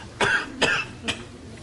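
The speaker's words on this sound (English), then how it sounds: "If I don't get a room soon, I'll never get rid of this cough." Three quick, rough coughs in a row, close and fairly loud, each a little weaker than the last.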